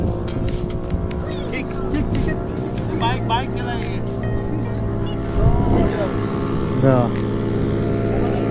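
Motorboats at the Kelva beach water sports area, a steady engine drone with surf wash underneath and people talking and calling nearby.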